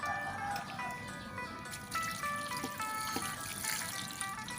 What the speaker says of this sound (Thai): รินน้ำออกให้หมดนะครับ แล้วเราก็ นำไปต้มใหม่อีกครั้งหนึ่งครับ